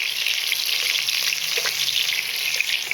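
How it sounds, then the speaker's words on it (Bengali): Chopped onions frying in hot oil with whole garam masala spices for pulao, an even, loud, close sizzle with faint stirring underneath and no talk. "এখন দিয়ে দিচ্ছি পেঁয়াজ কুচি"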